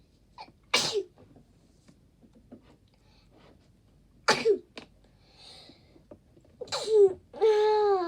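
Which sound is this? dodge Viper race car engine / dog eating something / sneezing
sneezing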